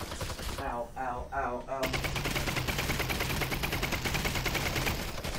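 Combine soldiers in Half-Life: Alyx fire SMGs in sustained rapid bursts, loud and close, with a dense rattling stream of shots filling most of the moment after a brief yelp from a player.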